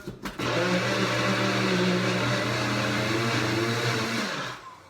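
A blender whirs loudly and steadily for several seconds blending avocado hollandaise sauce, starting abruptly and winding down at the end.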